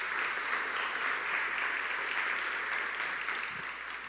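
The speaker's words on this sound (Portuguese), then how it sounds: "Se você crê na sua oração, aplauda bem forte o nome de Jesus." A church congregation applauds steadily after a prayer, the clapping broad and sustained at moderate level, fading slightly toward the end.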